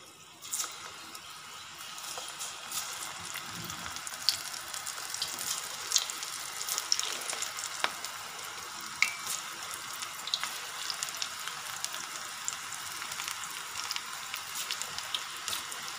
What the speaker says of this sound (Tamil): ஒரு பக்கம் எண்ணெயை காய வச்சுட்டு எப்படி ஃப்ரை பண்ணுறதுன்னு பார்க்கலாம்